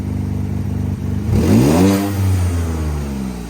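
A Ford F-150 EcoBoost with new coil packs and a blow-off valve revs up sharply once, the engine note climbing and falling back to a close, loud idle.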